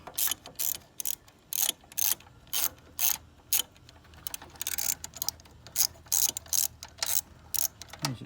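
A ratchet tightening 10 mm screws on a Honda S2000 during a battery replacement, with short bursts of rapid clicking repeated in a steady rhythm, close and clear.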